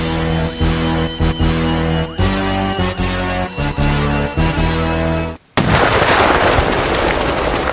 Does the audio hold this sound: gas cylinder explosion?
yes